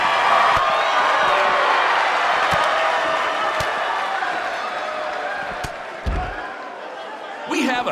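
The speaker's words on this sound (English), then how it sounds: "record-setting crowd here for BCW tonight." Crowd noise at a sold-out wrestling event in the WWE 2K19 video game: a broad arena roar with cheering runs throughout, with a few sharp thuds and a brief slam near the end.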